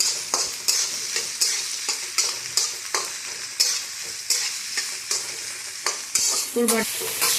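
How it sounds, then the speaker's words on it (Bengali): Egg fried rice with spring onion is stir-fried in a hot pan, a steady bright sizzle broken by regular scraping strokes of the spatula roughly every half second, close and loud, with no voices. "এটা এগ ফ্রাইড রাইস হচ্ছে।"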